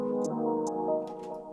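A normal trap hi-hat pattern in a drill beat ticks out a few sparse, crisp hits over a sustained synth chord, all fairly quiet.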